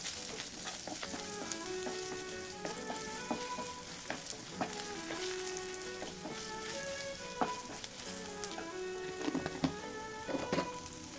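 Ivy gourd fries in a pan with chili powder, a soft continuous crackling sizzle broken by repeated metallic stirring scrapes and clinks, close and unaccompanied by speech.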